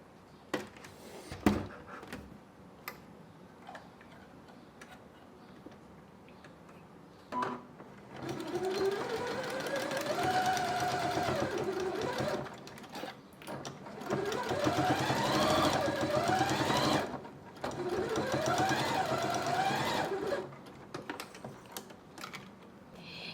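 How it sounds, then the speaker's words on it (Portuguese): A sewing machine stitches a fabric basket seam with a half-centimetre margin, running in several loud sustained bursts with whirring pitch rises, separated by short pauses and light handling clicks. "eu vou juntar e vou costurar aqui, ó, com uma margem de meio centímetro, fechando aqui o meu cachepô"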